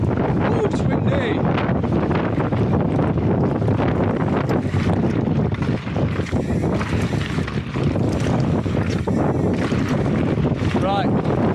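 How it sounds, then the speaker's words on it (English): Heavy wind buffets the microphone nonstop at Nant Yr Arian, a loud low roar with gusty bursts, as voices call out intermittently underneath. "Ooh, it's windy."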